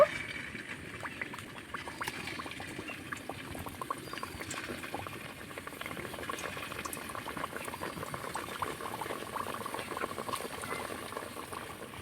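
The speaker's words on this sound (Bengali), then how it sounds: "এবার ভেজে নেব একে একে তেলের মধ্যে ছেড়ে দেব" Coconut fritters (pitha) deep frying in medium-hot oil, a steady dense bubbling crackle that runs continuously and fairly close throughout.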